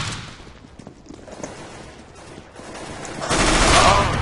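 Gunfire in CS:GO, scattered distant shots under a tense quiet that break into a louder, dense burst of close firing near the end.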